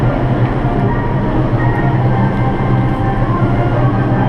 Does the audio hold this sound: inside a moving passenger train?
yes